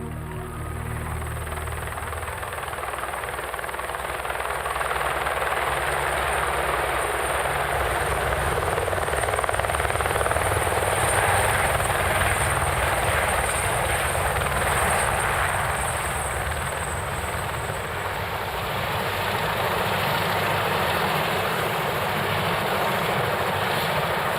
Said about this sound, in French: C'est encore et toujours la présence d'un hélicoptère qui rend possible ce genre d'opération.